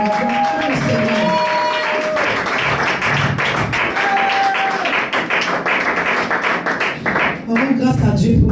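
A church congregation applauds continuously, dense rhythmic clapping mixed with cheering voices and a speaker talking over the crowd.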